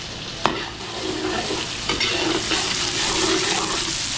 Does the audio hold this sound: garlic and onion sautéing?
yes